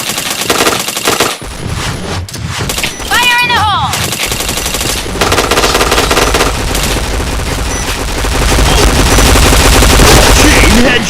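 Rapid automatic gunfire in a first-person shooter game during a bomb-plant round, loud bursts and sustained rattling close up, with gaming voices and in-game sound effects mixed in.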